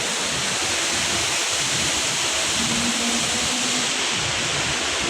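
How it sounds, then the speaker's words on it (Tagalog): Continuous, loud rush of floodwater pouring over a swollen waterfall, a dense unbroken hiss and roar with no voices. "laki na ng baha guys"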